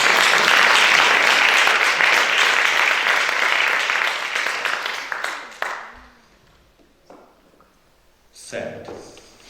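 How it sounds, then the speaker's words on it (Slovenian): An audience at an international young dancers' competition breaks into loud, sustained applause that fades out after about five seconds, followed by quieter moments with scattered sounds and brief talk. "Aplavz."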